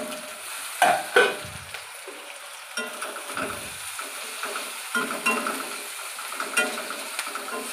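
Halved green chillies frying in hot oil for a rohu fish curry, a steady sizzle with a couple of sharp spattering pops and light stirring clinks, close and unaccompanied by talk.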